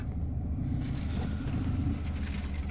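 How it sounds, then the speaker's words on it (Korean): A car passes outside at night, a low rumbling road noise swelling and holding steady at a moderate distance, with no talk over it. "아, 지금 차 소리 들리십니까?"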